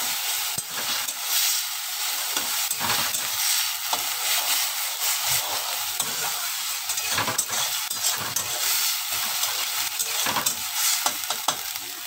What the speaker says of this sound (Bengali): মশলাটা দিয়ে কষিয়ে নেব ভালো করে।